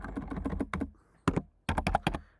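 Bursts of rapid keystrokes on a computer keyboard while code is typed, coming in several quick clusters separated by short pauses, close and clear with no talking.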